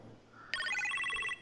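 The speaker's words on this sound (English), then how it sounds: "You appear to have a phone call in the kitchen, sir." A phone rings in a kitchen in Marvel's Iron Man VR, a bright electronic trilling ring that starts suddenly, holds steady for under a second and stops, clear against a quiet background.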